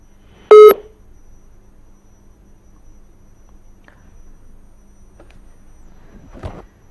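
A single short, loud telephone tone on a viewer's call-in line to a Hindi television news discussion, followed by near silence with a faint low hum and a soft clunk near the end.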